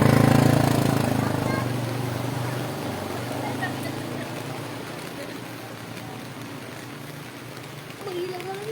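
A car stuck in a flooded roadside ditch after rain has its engine revved hard: a loud, sustained droning roar that slowly eases, with water sloshing and people talking over it.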